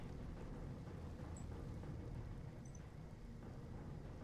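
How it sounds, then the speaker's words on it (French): Thunderstorm ambience in Warcraft III, a faint, continuous rain-like hiss over a low rolling rumble, steady and distant throughout with no speech. "Foudre et tempête."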